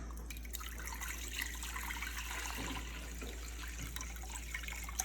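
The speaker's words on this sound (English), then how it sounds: "All right, so pour that into the pot here." Water runs steadily into a cooking pot set out for boiling a box of pasta, a constant close splashing flow over a low hum.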